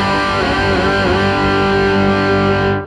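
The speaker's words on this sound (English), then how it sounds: "a nice filthy rhythm tone which backs off well. It's called the classic distortion" Electric guitar played through the classic distortion preset of a Line 6 M13 effects unit, a filthy rhythm tone with thick sustained overdriven chords ringing loud and steady for about three seconds before cutting off abruptly.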